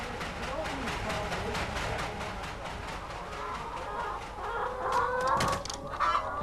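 Commercial laying hens kept in an intensive deep litter house cluck steadily in a dense, continuous flock din, with a few sharper calls standing out near the end.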